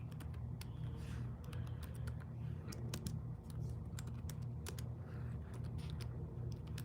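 Quiet typing on a computer keyboard, irregular bursts of sharp key clicks over a steady low hum in a room.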